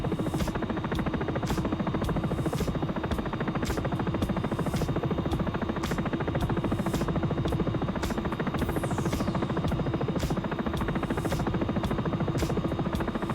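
Sikorsky S76 helicopter in the X-Plane 11 flight simulator flying at speed, a steady dense rotor and turbine drone with a continuous even buzz and faint rhythmic blade ticks, loud and constant throughout with no talking.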